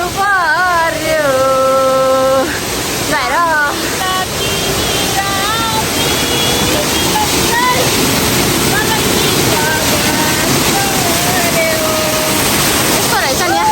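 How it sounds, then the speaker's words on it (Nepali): A waterfall in Shivapuri forest, its loud, steady rush of falling water filling the whole scene up close while people talk over it. "ल यो अब यही हो झर्ना। झरनाको चिसो पानी"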